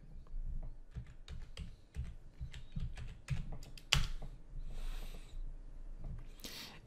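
Someone types a password on a computer keyboard, producing a quiet string of quick, uneven key clicks that come close-up and alone, with a few brief pauses between bursts.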